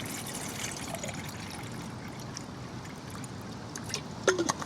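Water pours steadily into a pot on an Emberlit portable stove with a continuous trickling splash, close by, ending with a couple of light clinks.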